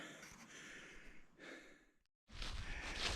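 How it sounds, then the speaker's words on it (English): After a climb to the top, a person breathes heavily near the microphone, with long sighing exhales, a brief pause, then another loud, rushing breath. "sorry for my heavy breathing. Whew, that was a climb"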